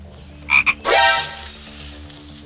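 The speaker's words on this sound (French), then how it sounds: "un coassement insistant venant de l'étang voisin" A frog croaks insistently from a nearby pond, with a couple of short calls followed by a louder, longer croak that fades slowly against a steady background hum.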